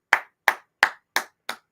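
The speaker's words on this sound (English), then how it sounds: "I'm gonna clap my hands to that." Hands clap five times in a steady, evenly spaced rhythm, each clap sharp and close with silence between.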